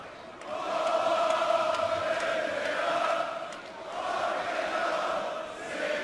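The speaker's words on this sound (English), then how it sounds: "Düsseldorf crowd singing, walking in a Phil Taylor wonderland." A large darts crowd in a Düsseldorf arena sings together at a German Darts Masters match, a sustained, loud chant rising and falling in waves throughout.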